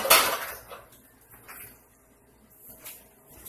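A pot lid clatters onto a cooking pot of simmering meat, one sharp metallic clank up close followed by a few softer taps and settling clinks.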